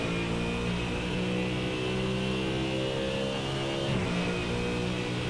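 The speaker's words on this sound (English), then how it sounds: "just listen to this thunderstorm of a car." A Ford Mustang GT3 V8 in the iRacing sim roars steadily from onboard, a deep throbbing engine drone with strong harmonic tones holding nearly constant, with a brief dip and pitch shift near the fourth second.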